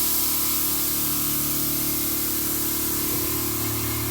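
AirLift 3H air suspension dumping air as the vehicle lowers, a loud continuous close hiss of escaping air throughout with a faint mechanical shift near the end.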